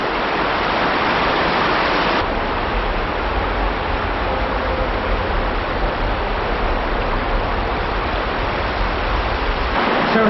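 Water pours over a small weir on Porter Brook, a loud, steady rushing roar that fills the whole stretch without letup.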